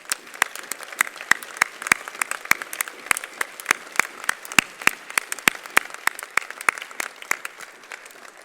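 A small audience at a union congress gives the women of Glasgow a round of applause: sparse, distinct individual claps in an irregular patter, fairly close and moderate, with no talk over them.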